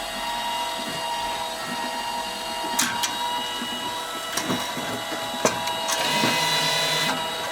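An LAB510 automatic labeling machine runs a test on folded cartons, giving off a steady mechanical whir with a few sharp clacks and snaps at irregular intervals.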